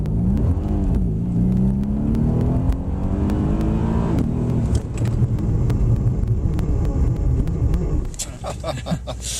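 A Mercedes-AMG C63 S engine roars close by on a race track, its pitch climbing as it accelerates at full power and shifts, with a rumbling drone and some rattling clicks near the end.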